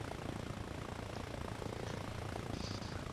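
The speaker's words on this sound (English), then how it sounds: "Get me away from the helicopter." A helicopter close by during a night infiltration operation, its steady loud rotor and engine roar filling the whole stretch without pause.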